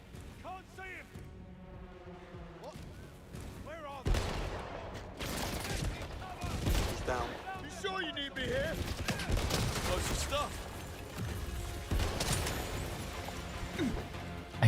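Gunfire in the spy video game 007 First Light, with bursts and sharp shots mixed with clanks, crashes and mechanical clatter in a busy game soundtrack, and voices talking over parts of it.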